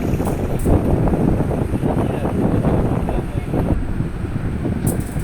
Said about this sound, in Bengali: এই জায়গাটাতে এত এত বাতাস, মানে বাতাস থামেই না